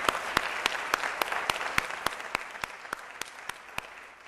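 Audience at a stock market closing bell ceremony clapping under a loud, sharp beat of single claps repeating about every third of a second, with the crowd's applause thinning toward the end.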